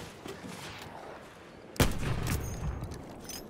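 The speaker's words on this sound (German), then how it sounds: "Weil die Waffe hört sich so krass an" Weapon fire in a Battlefield 1 multiplayer team deathmatch: a single sharp, loud shot cracks midway after quiet background ambience, followed by a rumbling echoing tail.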